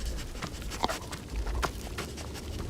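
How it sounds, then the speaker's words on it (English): Creature dogs in the 2013 film Riddick, heard as panting and whimpering yips with a few low thuds, moderately close against a rumbling film soundtrack. "the puppy dogs are back"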